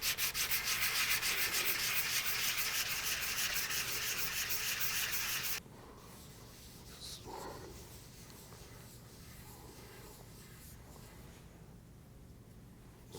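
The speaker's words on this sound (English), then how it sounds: "I'm going to switch over to hand sanding." Rapid rhythmic rasping of 150 grit sandpaper rubbed back and forth by hand on a carbon composite propeller tip, close and steady for several seconds, then stopping into quiet room noise.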